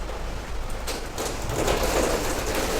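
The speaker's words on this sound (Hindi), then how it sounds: "अचानक से इतनी ज़्यादा बारिश होने लगी" Heavy rain falls in fat drops, a dense steady hiss of water on surfaces that swells louder partway through and then holds, close and continuous, with no speech.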